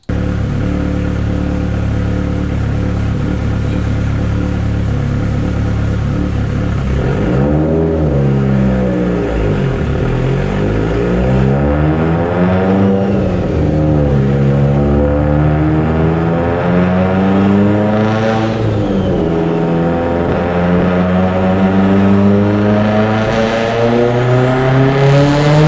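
A Mitsubishi Evo X with an unsleeved block, Manley H-beam rods, Wiseco pistons and Kelford cams, being fuel-tuned: loud, close engine droning steadily, then revving up and down repeatedly with rising and falling pitch sweeps, no voices.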